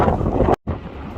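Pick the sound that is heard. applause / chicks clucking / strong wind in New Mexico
strong wind in New Mexico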